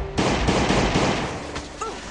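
Rapid bursts of gunfire in the Last Day On Earth survival game, a dense loud volley rattling continuously for about two seconds, followed by a faint sliding in-game tone near the end.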